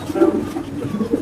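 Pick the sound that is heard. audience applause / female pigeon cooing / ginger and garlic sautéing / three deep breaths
female pigeon cooing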